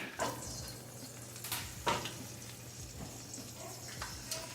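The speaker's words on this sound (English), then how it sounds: "we try to infuse oil with garlic, and same time brown our" Halved garlic with cashews frying in a generous pour of olive oil in a pan for a rustic seafood stew, giving a soft, steady sizzle with a few stirring scrapes, low and close.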